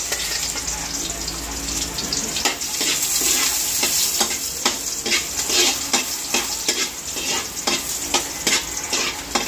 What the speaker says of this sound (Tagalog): tigigisa na ni Lenny. Ng bawang, sibuyas, at luya